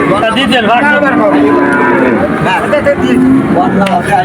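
Calves at a busy rural cattle market moo repeatedly and loudly close by, several drawn-out bleating calls overlapping, while people talk nearby and a vehicle murmurs faintly in the background.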